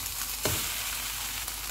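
Mashed potatoes and onion frying in a pan: a soft, steady sizzle with one brief stirring clatter early on, heard alone and at a moderate distance.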